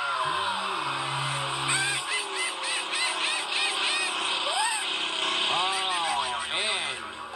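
A Press Your Luck game show whammy effect plays loudly: cartoonish warbling, swooping electronic tones and honking squeals, with buzzy tones at the start.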